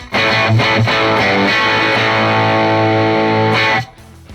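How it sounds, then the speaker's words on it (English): A loud, sustained distorted electric guitar chord rings out with a gritty overdriven tone from an overdrive pedal in front of a Vox AC30 amp with gain cranked to 10; a few quick strums at the start, then cuts off. "add an overdrive in front of the Vox AC30"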